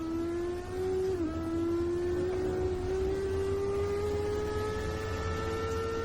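A Porsche RSR '17 race car engine in a racing video game, a sustained buzzing engine note that climbs steadily in pitch with a brief dip partway through, loud and continuous without speech.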